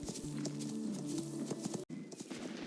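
Horse hooves gallop in the Star Stable video game with a steady, rapid clip-clop close by. A faint tonal hum sits underneath, and there is a brief dropout near the end.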